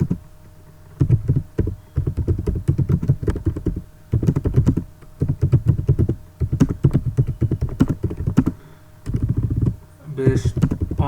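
Rapid bursts of clicky keystrokes on a computer keyboard as code is typed, close and fairly loud, in uneven runs separated by short pauses.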